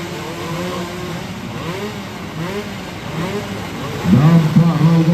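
Two-stroke 125 cc racing motorcycle engines in a regional road race on a former airport circuit in Toraja, buzzing and rising in pitch as bikes pass, with a louder, nearer high-revving engine surging in near the end.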